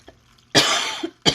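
A person on a live stream coughs close to the microphone, with a faint throaty rasp first and then two loud, harsh coughs.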